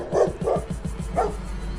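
A dog barking repeatedly in a board game narration where it attacks an armoured snake, with three or four loud close barks in quick succession.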